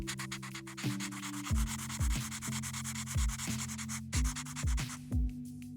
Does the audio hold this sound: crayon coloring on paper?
yes